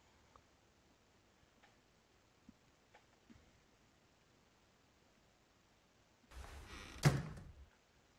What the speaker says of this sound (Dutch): Deurtje gaat wel weer dicht.